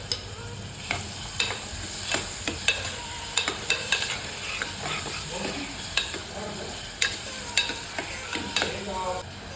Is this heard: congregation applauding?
no